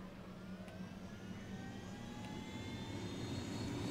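A helicopter in the Ghost Recon Wildlands video game drones with a steady engine whine and rotor rumble, fairly faint and continuous, slowly swelling a little louder toward the end with no voices over it.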